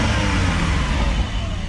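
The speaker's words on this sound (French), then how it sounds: "Je vais vous faire écouter un petit peu l'échappement. Donc là on est en version normale avec les valves fermées." Porsche 718 Cayman GT4 idling with its exhaust valves closed, a steady, low, muffled engine rumble that stays even and fairly loud throughout with no revving swell.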